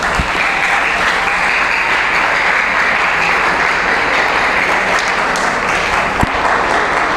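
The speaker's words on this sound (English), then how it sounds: "That applause is not enough." A crowd at a Nigerian youth gathering claps steadily and densely for several seconds, a broad even wash of applause with no talking over it.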